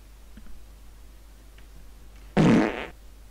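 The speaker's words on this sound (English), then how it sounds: "That's the sound of the game crashing." Team Fortress 2 crashes during loading with a sudden loud, buzzing half-second burst over a faint background hum and scattered soft clicks.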